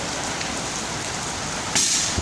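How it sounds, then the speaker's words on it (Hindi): Steady rain falls in a continuous, close hiss on surfaces outdoors, with a brighter splash of spray near the end. "बारिश कैसी लग रही है?"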